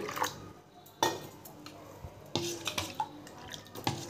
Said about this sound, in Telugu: చూసారు కదా, ఈ విధంగా పలుచగా కలుపుకోవాలండి.